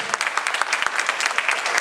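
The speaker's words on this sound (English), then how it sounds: "Can we give him a round of applause?" A room full of people at a neighborhood homeowners association council forum claps in a steady, dense round of applause, fairly close and continuous with no speech over it.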